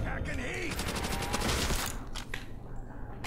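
PPSh submachine gun in Call of Duty: World at War custom zombies fires rapid automatic bursts, a dense, loud, close rattle of shots that breaks off and resumes briefly near the end.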